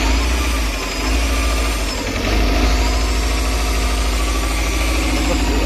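A Tata Manza car engine idles after an overhaul, a loud, steady mechanical hum with a slight rise around the middle, heard up close and alone.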